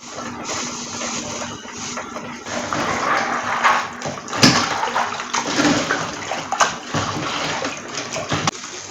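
Ingredients for homemade Tom Brown being washed in water, with splashing, sloshing and rinsing sounds that rise and fall irregularly, plus a few sharper knocks and clatters, close by and without talk.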